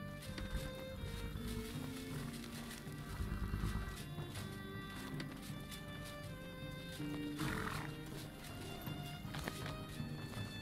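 Horse in Mortal Online 2 snorting and neighing over hoofbeats, with a dense in-game ambience of animal cries and rumbling layered throughout.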